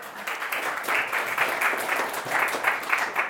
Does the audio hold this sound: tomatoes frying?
no